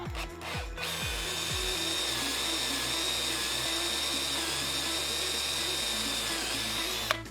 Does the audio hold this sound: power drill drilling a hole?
yes